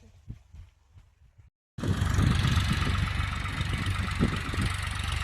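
After a quiet start with a few soft knocks, a 36-horsepower tractor engine suddenly roars up and runs loud and steady nearby, rumbling and chugging.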